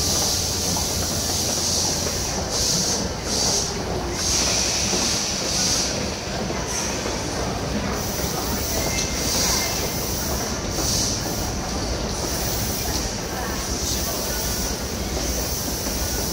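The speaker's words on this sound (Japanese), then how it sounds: "2番乗り場から電車が発車します。" A Fukuoka City Subway train rumbles steadily through underground Tenjin Station for the whole stretch, a constant heavy roar with faint squeals and clatter, no voices.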